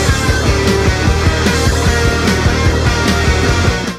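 A loud, dense, distorted electric guitar riff, with a higher octave tone layered in, chugs in a fast driving rhythm up close with no talking.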